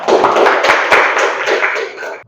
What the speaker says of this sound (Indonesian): Tepuk tangan buat Rano